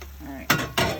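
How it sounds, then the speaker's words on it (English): A metal plate serving as a makeshift lid is lifted off a camp cooking pan, making two quick close clanks of metal against metal about a quarter second apart, with a brief ringing after each. "Remove this plate / lid."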